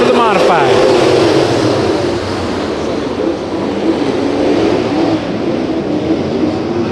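Modified race cars roar past during a heat race at Santa Maria Raceway, a loud pass-by whine sweeping down at the start and then easing into a broad, continuous engine drone with crowd-like noise.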